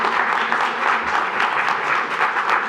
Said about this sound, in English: so I appreciate the applauding